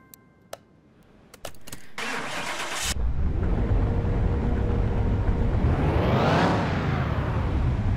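Supercharged V8 in a bright green Gas Monkey Bel Air on a dyno in Car Mechanic Simulator 2021: a few sharp clicks, then the starter cranks and the engine catches into a loud, steady idle before one rising and falling rev.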